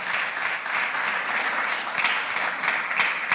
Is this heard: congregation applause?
yes